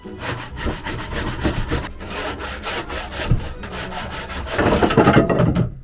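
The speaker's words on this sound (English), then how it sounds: "So it's handsaw for the next bit." A handsaw rasps through wood in steady back-and-forth strokes, close and fairly loud, growing rougher near the end.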